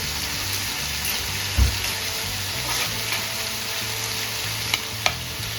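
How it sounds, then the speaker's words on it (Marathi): Chicken sizzling in oil on a small home tava as it fries for chicken lapeta, a steady close hiss with a few sharp pops and clinks of stirring. "आपण हे चिकन आपलं मस्तपैकी फ्राय करून घेऊया."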